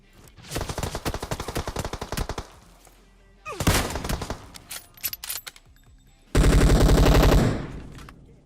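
Rapid automatic gunfire bursts from PUBG Mobile, loud and close, come in three volleys: a long rattling spray, a shorter burst, then a dense sustained stream of shots near the end.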